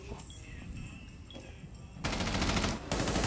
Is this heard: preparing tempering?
no